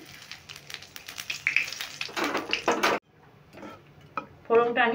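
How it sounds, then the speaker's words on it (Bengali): Cumin seeds sizzle in hot white cooking oil in a kadai, a crackling hiss over the first few seconds with scraping stirring clatter, then quieter stirring with a few clinks. "তেলটা আমার গরমই আছে, আমি এখানে কিছু জিরে ফোড়ন দিয়ে দিচ্ছি"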